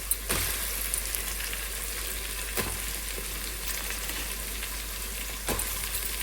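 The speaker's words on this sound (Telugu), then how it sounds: "ఇప్పుడు ఉల్లిపాయ ముక్కలు వేద్దాం." Chopped onions frying in hot oil in a pan, a steady bright sizzle throughout with a few sharp stirring knocks, close and fairly loud, no voices.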